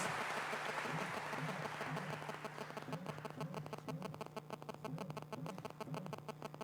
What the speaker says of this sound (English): give a big round of applause for all our guest speakers